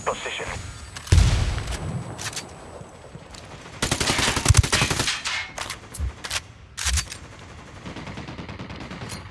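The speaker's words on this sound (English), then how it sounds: "Taking fire from the parking area." Automatic rifle fire rattles in Ghost Recon Wildlands, several loud bursts of varying length with quieter gaps, partly under radio-style voices talking.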